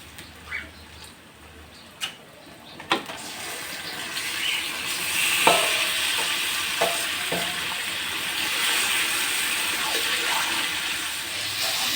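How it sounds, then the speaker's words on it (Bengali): Goat meat hits onions already fried reddish-brown on a clay stove, setting off a loud, steady sizzle after a few clicks and stirring knocks, continuing as a bright, close hiss. "পেঁয়াজটা আমার লাল লাল করে ভাজা হয়ে গেছে, এখন মাংসটা দিয়ে দেবো"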